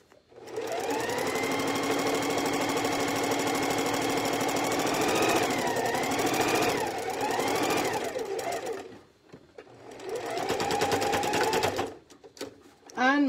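A sewing machine stitches down a skirt in long steady runs, a dense mechanical whir that pauses briefly twice before starting again, with a voice speaking over it.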